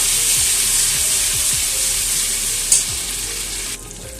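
Cauliflower frying with ground ginger and green chili paste is stirred in a pan: a steady, loud sizzle runs throughout, with repeated low scraping strokes of the spoon and a brief clatter near the end.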